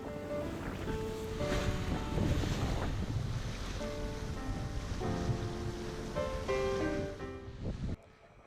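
A sailing boat heads out of Falmouth Harbor toward open ocean, with continuous wind roar and rushing waves close to the microphone. Faint tonal music runs through the noise before it drops away near the end.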